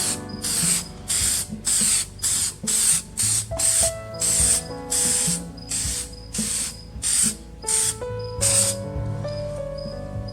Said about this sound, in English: So that's Meguiar's headlight coating.